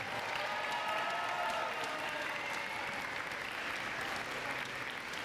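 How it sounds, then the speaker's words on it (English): A crowd at a spring sports awards ceremony claps in a dense, steady round of applause that fades slightly toward the end. "So Mr. McBee and Mr. Lom, can we please give them a big, big, big round of applause?"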